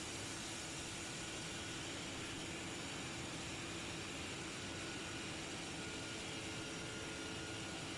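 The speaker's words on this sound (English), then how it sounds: "the A330 engine sound pretty good." Airbus A330 jet engines in Microsoft Flight Simulator 2024, a steady broadband roar and hiss holding constant, loud and unbroken with no talking.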